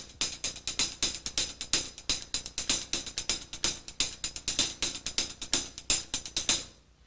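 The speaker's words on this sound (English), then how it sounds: "I'll play it on the hi-hat." Hi-hat played with a paradiddle sticking pattern, dense rapid strokes with accents in a continuous rhythmic flurry, close and fairly loud, ending abruptly.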